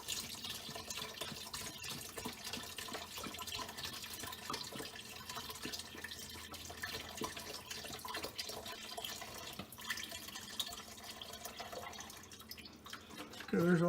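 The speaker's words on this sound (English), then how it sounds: "If you pour with the spout at the top, it pours faster because it could get air." Chicken broth poured from a carton into a cooking pot, a continuous gurgling, splashing stream with glugs, close and steady, with a brief voice at the end.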